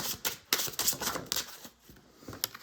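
Rapid papery riffling and flicking of cards, a quick series of crisp snaps close by with no talking.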